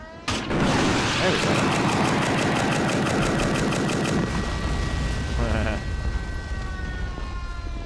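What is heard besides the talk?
gun firing in a video game (Men of War Modern Mod)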